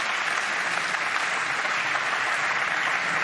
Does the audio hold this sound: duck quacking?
no